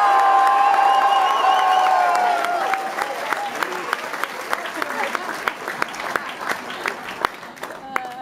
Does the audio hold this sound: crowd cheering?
yes